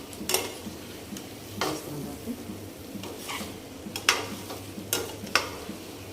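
Dum aloo masala roasting in hot oil in a pan, with steady soft sizzling and a few sharp clinks of a spoon against the pan at irregular intervals.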